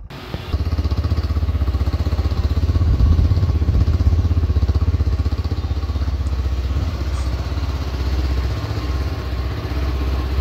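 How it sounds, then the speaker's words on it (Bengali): A Hero Xtreme 160R 4V motorcycle engine idles steadily and close by, with a fast, even throb that keeps up for about ten seconds after it catches. "আপনাদেরকে বাইকটির সাউন্ড শোনাই।"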